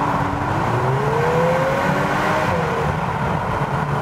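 A 2021 VW Golf 8 R engine, 320 hp with Akrapovic exhaust, roars continuously at close range, its pitch climbing and dipping as it accelerates, loud and gruff with no talking.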